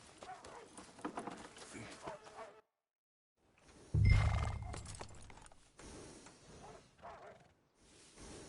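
Horse hooves clip-clop in Red Dead Redemption 2 as a workhorse is led along, steady footfalls that are close at first, then mixed with snorts and a louder burst, with game sounds and voices around them.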